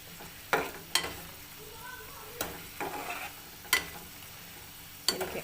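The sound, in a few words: chicken filling frying in oil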